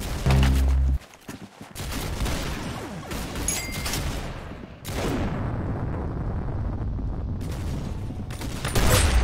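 Bursts of gunfire in Roblox Arsenal, loud rapid volleys with brief pauses and booming shots, crowded and close throughout.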